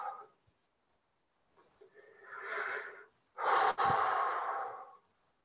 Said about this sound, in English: breathing with it